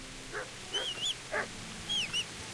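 A dog in a video game barks and yelps a few times in short bursts, fairly faint and somewhat distant, with quiet gaps between calls.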